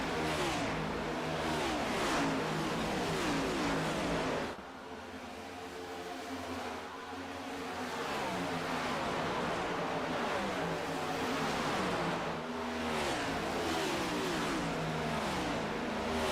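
Stock cars running nose to tail in an iRacing NASCAR race at Las Vegas Motor Speedway, a continuous layered engine roar that rises and swells, dips briefly, then builds again as the pack passes.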